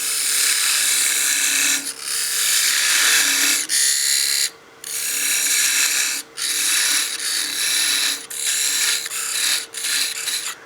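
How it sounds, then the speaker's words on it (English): A lathe parting tool cuts into a spinning wood blank while a wine glass is turned, giving a steady, loud, close scraping rasp that stops briefly several times between cuts. "So I'm just parting down, giving myself about a ½ inch of relief."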